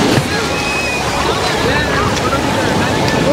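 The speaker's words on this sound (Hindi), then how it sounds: "अब पानी की लहर थोड़ी हैवी नहीं आ रही है" Sea waves wash onto the shore at Rameshwaram in a loud, continuous surging hiss mixed with wind buffeting the microphone, while people talk nearby.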